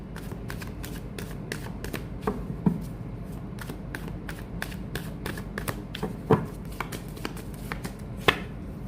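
Tarot cards are shuffled in quick repeated riffling flicks, a rapid series of sharp papery slaps with a few louder snaps as cards drop, close and steady.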